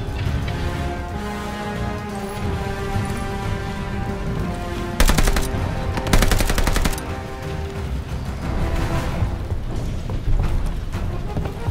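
Heavy automatic gunfire from a Call of Duty Vanguard campaign battle, rapid sustained bursts that grow louder in two short dense volleys over a steady din of game noise, with no talking.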